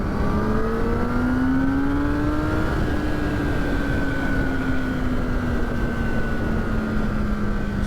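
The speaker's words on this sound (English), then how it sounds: "you want to just bring up the RPM and then let the bike decel" A motorcycle engine revs up steadily, pitch rising, then slowly winds down under engine braking as it decelerates, loud and continuous under constant wind noise.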